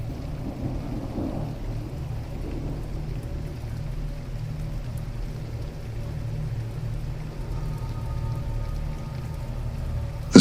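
Steady heavy rain with a low rumbling thunder roll throughout a stormy night on a lonely road, loud and continuous with no voices, ending in a sudden sharp burst.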